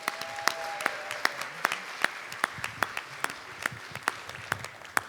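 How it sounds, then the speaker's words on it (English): Audience applause for a band at an awards event, with distinct individual claps ringing out in a lively, fairly even rhythm over a murmuring room. "can we get a round of applause?"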